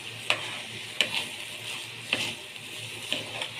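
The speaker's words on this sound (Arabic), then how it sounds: "وهشوحه بقى كويس كده مع الزيت" Food sautés in hot oil with salt in a pan, giving a soft continuous sizzle. Sharp scraping clicks from stirring break through about once a second.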